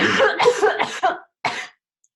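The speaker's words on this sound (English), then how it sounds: "You can't help but coughing." A burst of several harsh coughs in quick succession, followed by a short pause and one last cough, close and fairly loud.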